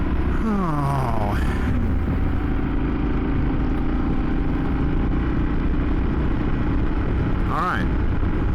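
A Yamaha Super Tenere 1200 motorcycle rumbles steadily underneath as it rides, with a continuous engine drone and wind roar under a rider's talk, and brief rising revs near the start and end.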